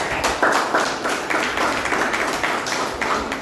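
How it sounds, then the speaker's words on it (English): Members of a Toastmasters club clap together in a room, a dense, close patter of hand claps that holds steady for a few seconds without talk. "So, a huge round of applause."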